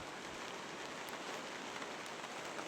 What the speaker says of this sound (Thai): มื้อนี้ฝนตกเบิดมื้อ